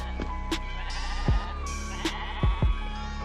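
Sheep bleat close by, several short wavering calls overlapping and following one another in quick succession over a quiet farmyard background.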